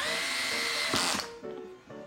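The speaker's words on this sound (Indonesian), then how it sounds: "Jadi kita harus bor lubang sesuai dengan lubang Panjerinonya." A power drill bores holes for mounting an Arduino board, whining at a steady pitch close by, then briefly straining and slowing before it stops, with no speech.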